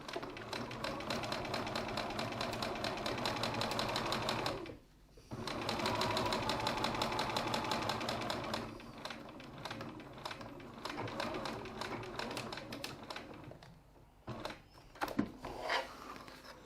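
A sewing machine stitches a leather wallet strap band near a D-ring, running in close steady stretches with a brief pause, then slowing into short uneven bursts near the end.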